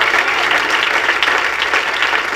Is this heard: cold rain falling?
no